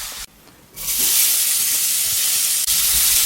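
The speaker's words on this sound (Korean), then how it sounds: "이 국물에다가 바로 오뎅을 볶아주세요." Fish cakes stir-fried in leftover soy seasoning broth in a pan, giving a steady close sizzle and hiss after a brief quieter moment at the start.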